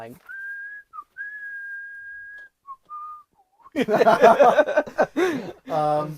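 Person whistling a western tune: a few clear, sustained melodic notes with short breaks, close and alone, then laughter and chatter take over.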